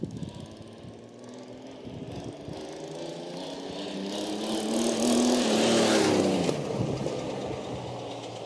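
Honda Goldwing 1800 GL motorcycle riding along with a suspected unusual noise, heard as a steady engine drone and road rumble that swells and falls a little, moderately loud, with no talking.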